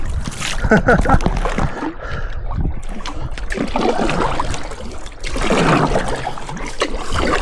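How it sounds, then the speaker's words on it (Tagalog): A resort boat is paddled on the water near Lobo, Batangas, with splashing and trickling strokes close by. People talk and laugh over the water sounds throughout. "Sige, sagwa na ng sagwan."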